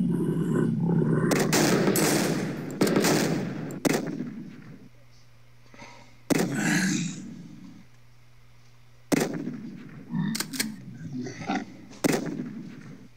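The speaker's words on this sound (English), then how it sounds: "That's a long-range fucking shotgun" A long-range shotgun fires repeatedly in the video game Dead In The Water, with several sharp, loud blasts at irregular intervals over a low steady background hum, each shot followed by a short decaying tail.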